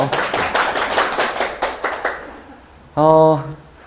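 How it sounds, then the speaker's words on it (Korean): Students at the first class of a real estate principles lecture give a sparse round of about eight distinct hand claps that thin out and stop, followed by a brief voice. "박수 크게 치셔도 괜찮아요"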